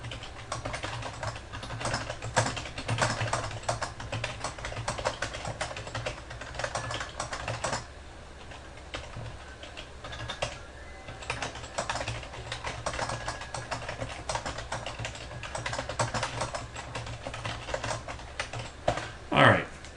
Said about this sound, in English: And then I'm going to type in my passage.